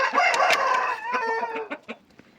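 A small flock of chickens with growing chicks, clucking and calling in a busy, close cluster of short, overlapping squawks that thin out into a few scattered clucks.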